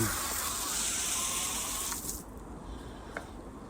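Water sprayed to wet down floor tiles before grouting, a steady close hiss for about two seconds that then stops, leaving faint room sound with a small knock.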